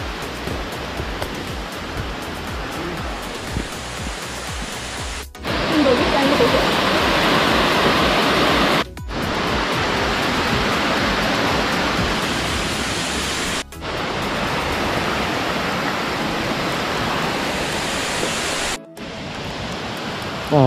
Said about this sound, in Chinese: 呢度咧，竟然仲有個額外嘅瀑布打卡位啊！